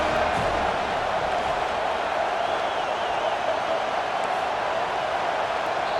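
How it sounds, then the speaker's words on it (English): In the EA Sports College Football 25 video game, a stadium crowd roars steadily on third down, a dense continuous wash of distant cheering and noise with no clear voices. "Decibels rising as the crowd gets behind this defense on 3rd down."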